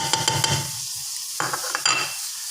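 Tomatoes, onion and curry leaves frying in oil in a pot, a bright crackling sizzle broken by bursts of spoon scraping and stirring, close by, with no speech.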